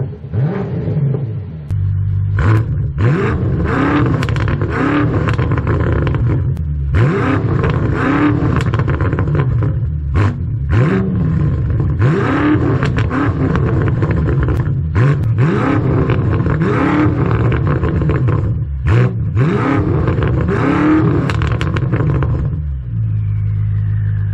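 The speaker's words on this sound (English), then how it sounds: "you can hear a little bit more of the intake, the whooshing sound as it's going in" A BMW M8 fitted with a K&N high flow air filter revs repeatedly, each loud burst rising and falling with an airy intake whoosh, about seven throttle blips spread across the stretch.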